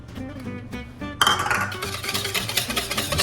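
Egg yolks being whisked in a bowl for a cheese soufflé, with a rapid metallic clinking and scraping that starts after a quieter opening and continues steadily.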